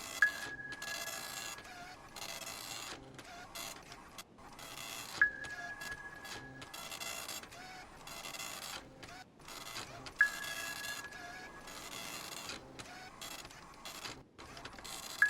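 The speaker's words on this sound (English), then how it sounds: "Very strong propeller noise." Submarine propeller noise picked up on sonar in a WWII destroyer U-boat hunting video game: a steady, rhythmic mechanical churning runs throughout, with a sharp sonar ping recurring about every five seconds.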